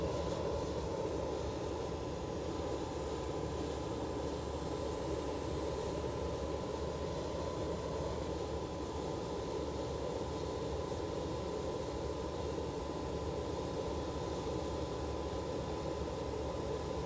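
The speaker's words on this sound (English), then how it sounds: "And engine number 4 is now starting." A BAe 146 jet engine, number four, spools up during start in the X-Plane 11 flight simulator. It makes a steady, loud, unchanging whine and roar for the whole stretch, with no talk.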